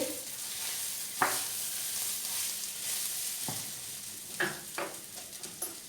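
Rice toasting in a hot pan for a pilaf, a soft continuous sizzle with a few louder scraping stirs and clicks scattered through it, close and fairly quiet.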